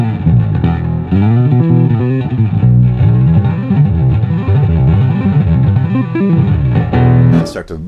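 Electric bass runs through an EBS Billy Sheehan signature drive pedal with compression engaged, giving a thick, sustained, gritty tone as a continuous melodic line that swells loudly, then ends with a sharp high squeal.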